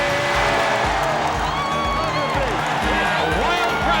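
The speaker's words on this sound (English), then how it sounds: "A wild crowd at the Summit cheering on an 18-point Houston Rocket lead." A wild basketball crowd cheers at the Summit arena during a Houston Rockets game, a dense steady roar under a commentator's voice, with sneakers squeaking on the court.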